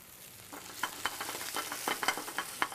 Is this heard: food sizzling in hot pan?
yes